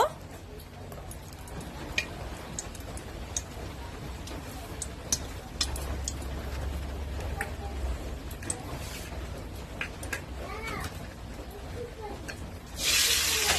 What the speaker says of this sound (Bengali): কড়াইতে তেল দিয়ে দিয়েছি, তেলটা গরম হয়ে গেলে এইবার দুটো এলাচ দিয়ে দেব।